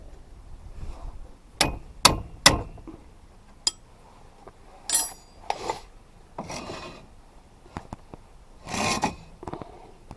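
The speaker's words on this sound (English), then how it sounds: "we're going to give those a little tap with the hammer" A few sharp metallic taps with a hammer during a Chevy Silverado 2500HD front wheel bearing hub replacement, a quick cluster of three then scattered single knocks, close by over faint scraping and handling noise.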